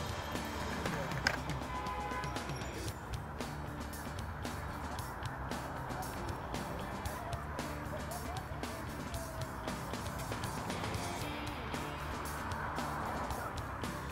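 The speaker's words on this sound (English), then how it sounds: "Maybe I'll get some more shots of these cars blazing by." Cars blazing past on a road, a steady broadband traffic rush that holds for the whole stretch with no clear gaps between vehicles, fairly near and continuous.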